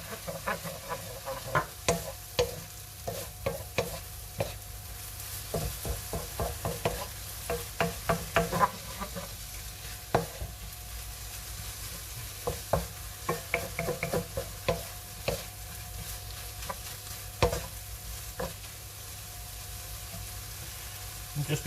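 Pad Thai noodles are stir-fried with soy sauce in a hot pan, a steady sizzle under a busy rhythm of tossing scrapes and clanks of the utensil, close and continuous, with no talking.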